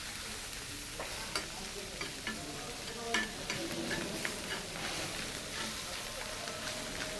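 At a busy fish eatery, fish seasoned with turmeric, chili, salt and oil fries, a faint continuous sizzle with light ticks and occasional stirring knocks.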